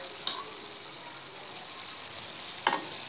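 Masala with dried fenugreek and fresh coriander sizzling in a pan, a soft steady frying hiss with two brief clinks of a stirring spoon, quiet and close.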